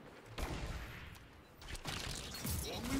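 Shotgun blasts in the Destiny Trials video game, a few sharp booming shots spaced through a short stretch of busy combat sound.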